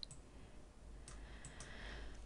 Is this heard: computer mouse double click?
yes